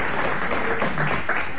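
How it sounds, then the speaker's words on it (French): Audience applause at a French comedy show, a dense burst of clapping that fills the short moment at steady loudness. "Et merci d'avoir applaudi à ces paroles définitives."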